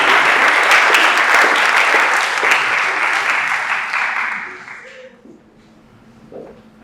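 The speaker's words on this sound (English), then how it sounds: "Round of applause." A seated audience at an inspirational leadership talk claps loudly and steadily, then the applause fades out over a couple of seconds into near quiet.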